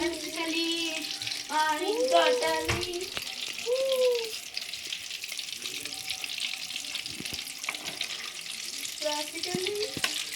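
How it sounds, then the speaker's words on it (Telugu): Chana dal burelu deep-frying in boiling oil, with a continuous hiss and bubbling sizzle throughout and a voice talking intermittently over it. "ఆ మరిగిన నూనెలో శనగపప్పు బూరెలు ఎలాగ కలర్ వస్తుందో చూస్తున్నారా?"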